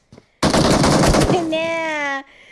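Shotgun fire in the mobile battle-royale game PUBG Mobile during a competitive esports match: a sharp, loud burst of rapid gunfire after a brief faint tap, followed by a ringing metallic tail that fades out.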